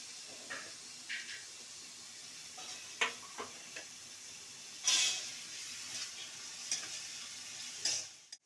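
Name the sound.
onion frying in hot oil in a wok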